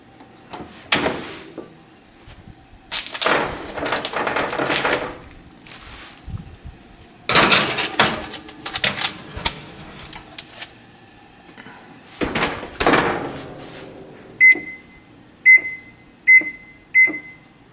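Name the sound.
oven door closing on puff pastry berry pizza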